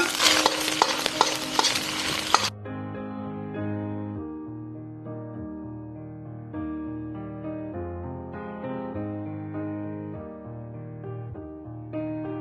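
Egg white fried rice with dried scallops is stir-fried in a hot wok, a loud sizzle with rapid scraping strokes for a couple of seconds before calm instrumental music takes over.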